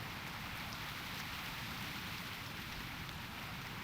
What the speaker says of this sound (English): This is like some of the best rain in any MMO.